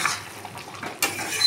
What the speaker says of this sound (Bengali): এবার আমি এর মধ্যে আলুটা দিয়ে কষাবো।